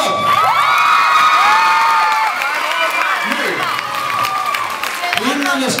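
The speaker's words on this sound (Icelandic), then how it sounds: "Gefið gott klapp!" A school audience bursts into loud, sustained cheering, whooping and applause that holds steady throughout, dense crowd noise with children's shouts rising over it.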